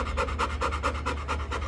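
A nervous dog pants at the vet's office, quick rhythmic breaths repeating steadily and close, with no talk over them.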